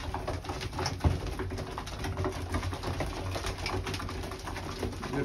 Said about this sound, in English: Beautiful thing watching the birds eat.